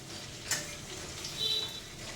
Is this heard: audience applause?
no